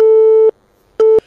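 Two bursts of a phone busy tone, each a steady electronic beep with a short gap between. The first beep lasts about half a second and the second is shorter, both loud and clear with no talk over them.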